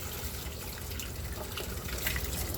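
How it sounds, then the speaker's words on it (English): Cold water runs steadily from a kitchen tap over boiled eggs being peeled, a soft, close, continuous splashing trickle with no talking. "underneath the cold water, I'm going to go ahead and peel them"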